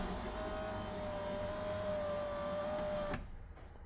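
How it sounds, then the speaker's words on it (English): A Porsche 996 Turbo power window runs on its repaired regulator as a steady motor whine with a faint rising tone, stopping abruptly near the end with a soft thud, fairly close and alone. "The window drop works when you open it"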